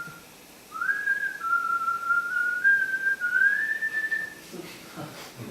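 A single person whistles a wandering tune, steady and clear at moderate loudness, lasting several seconds before stopping.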